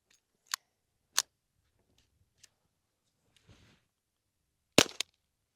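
A rifle fires Norma subsonic .22 rounds as sharp, isolated pops, three shots spaced about a second apart, then a fainter mechanical rattle and one more crack followed by a quick click.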